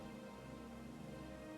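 Heavy rain in the fantasy game Guild Wars 1, a faint, even hiss of steady downpour with a low droning tone beneath and no voices.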